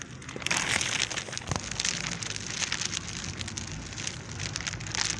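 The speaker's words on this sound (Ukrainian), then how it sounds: "І ще дощик тут." Steady rain falling on a vegetable garden in March, a dense close patter of drops with no talking.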